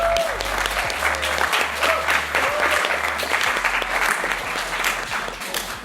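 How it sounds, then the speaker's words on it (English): An audience at a 2023 school Maker Faire keynote applauds with sustained, dense clapping that holds steady for several seconds and eases slightly toward the end. "Let's give a round of applause for our..."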